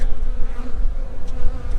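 Honey bees buzz steadily at an open hive, a close, continuous drone filling the short moment without any talk.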